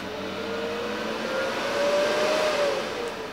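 A Miller Multimatic 220 AC/DC welder's cooling fan whirs steadily for a few seconds after switch-off. The close, broadband rush carries a faint rising tone.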